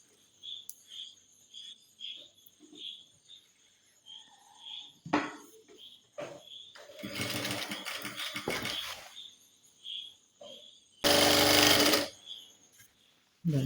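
A sewing machine joins one side of a girls' uniform pant in two loud motor bursts separated by quieter handling sounds, with a faint high steady tone running throughout in the background.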